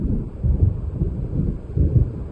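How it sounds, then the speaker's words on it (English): Low, rolling rumble of thunder from an approaching storm in the video game Alan Wake, swelling in repeated heavy waves with a steady windy undertone and no talk. "It seems there's a storm coming."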